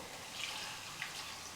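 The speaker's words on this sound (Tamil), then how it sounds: "இப்போ தேவையான அளவுக்கு தண்ணி சேர்த்துக்கலாம்" Water poured into a pot of cooking vada curry, a soft steady splashing trickle, quiet and close, with no talk.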